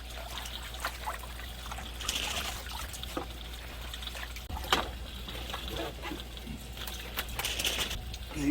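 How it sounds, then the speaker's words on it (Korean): Water trickles and drips from freshly washed wild lettuce set to drain in a colander, a faint, steady patter with occasional splashes, close by and quiet. "물기를 빼주도록 하겠습니다."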